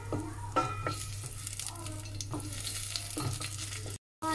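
Curry leaves fry in a hot pan while being stirred, with a continuous sizzle and occasional scraping knocks from the utensil, cut by a brief moment of silence near the end.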